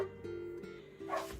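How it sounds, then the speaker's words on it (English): A dog gives a few short, muffled barks and yips in the background, with a brief higher whine near the end. "Excuse Justin barking in the background"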